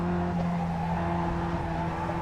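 A race car in the Red Pepper Racing game on the Jefferson Circuit braking and downshifting, giving a steady engine drone with sustained tonal whine and faint tire scrubbing throughout, close and continuous.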